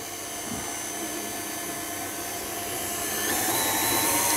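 An electric mixer whisks a gelatin mixture for Christmas entremets, running with a steady whirring hum that swells a little louder near the end as it speeds up.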